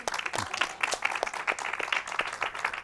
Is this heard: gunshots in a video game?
no